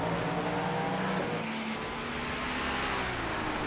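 Race car engines at Watkins Glen in the iRacing endurance simulator, a continuous droning engine tone with a shifting pitch, steady and moderately loud throughout.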